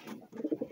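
White domestic pigeons, kept in pairs, give soft, close, low cooing. The call rises and falls in a short burst of throaty pulses, with a brief pause partway through.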